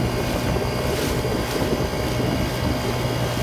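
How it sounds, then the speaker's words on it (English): A Lifan 35cc four-stroke outboard motor pushes a Nucanoe Frontier 12 along at wide-open throttle, a steady close buzzing drone mixed with wind and water noise. "Very smooth motor so far."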